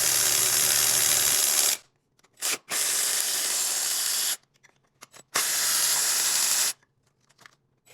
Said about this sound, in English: we're going to go ahead and unbolt the 5 bolts that are holding the oil cooler down